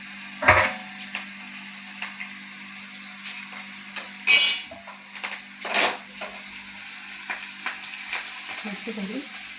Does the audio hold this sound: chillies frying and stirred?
yes